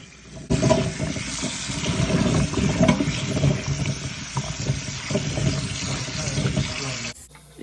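Avocado seeds being rinsed under running water in a sink, a steady close splashing and trickling flow that runs for about seven seconds and then cuts off.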